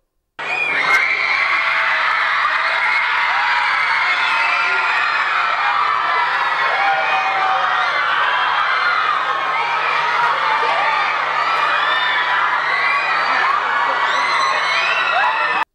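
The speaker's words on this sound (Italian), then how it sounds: "è apparsa lei ed è scoppiato il grido" Huge, sustained roar of fans screaming and cheering as Selena Gomez appears on a flowered balcony, dense high-pitched shrieks and whoops from a large crowd, loud throughout.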